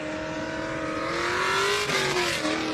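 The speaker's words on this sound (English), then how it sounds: "Now on the start line, proud Adelaide Car Club member Fletch Bolton is in his MX-5 LS" A V8 LS-swapped Mazda MX-5 launching off the start line at a state hillclimb event, its engine note rising loud and close with a steady roaring climb, then a brief dip as it shifts before pulling away.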